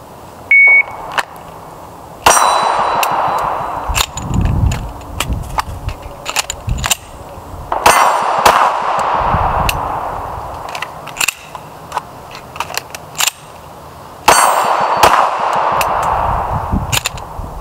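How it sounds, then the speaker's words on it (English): A shot timer beeps, then handgun shots crack in quick strings at a shooting range, with metallic pings as rounds strike a steel popper target, loud and sharp with gaps between the strings. "I'm gonna shoot the little popper guy there."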